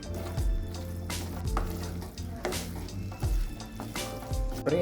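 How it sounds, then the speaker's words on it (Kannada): Bhindi masala with coriander frying in a pan, a steady sizzle with repeated scraping and stirring clatters close by, no voices. "ಕೊತ್ತಂಬರಿ ಹಾಕೊಂಡು ಎಲ್ಲ ಫ್ರೈ ಮಾಡ್ಕೊತೀನಿ."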